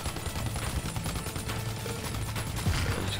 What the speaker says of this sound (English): And just keep shooting, keep shooting, keep shooting